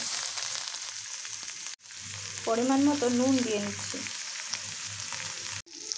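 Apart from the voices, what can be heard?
onion, tomato and capsicum frying in mustard oil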